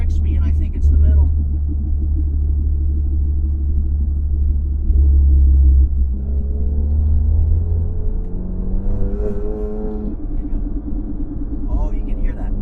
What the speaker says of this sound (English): I only hear the noise as it's decelerating